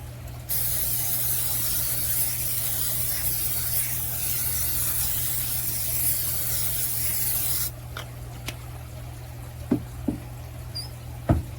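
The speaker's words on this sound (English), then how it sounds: "so I'm going to spray it a little bit with a tiny bit of Pam." A continuous hiss of Pam cooking spray onto a cast iron pan lasts several seconds, then stops, followed by a few light clicks and taps.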